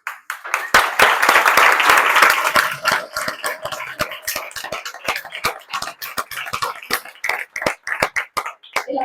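An audience applauds after a talk on artificial intelligence at an AlmeriaTech community event, a dense burst of clapping that thins into scattered, uneven claps.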